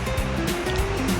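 Sea waves washing back in at rising tide on a tidal flat where razor clams are dug, a continuous loud wash of surf with low rumbling swells and no talk.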